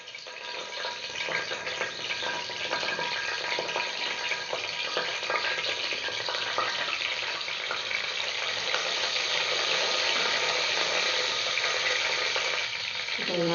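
Whole spices such as fennel, rose petals and star anise frying in hot oil as the base for a vegetable biryani: a loud, steady, close sizzle and crackle that runs unbroken throughout, with no talking.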